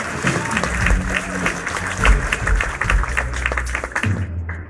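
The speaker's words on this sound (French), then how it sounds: "I think we can give a better clap than that" Church congregation clapping together at a Sunday service, a dense patter of hands spread through the room, with low musical or voice tones underneath and some talk mixed in before it tapers off.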